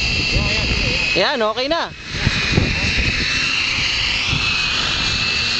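A Real Heli MX9 electric RC helicopter spins its rotor with a steady high whine and buzz throughout, while people talk nearby.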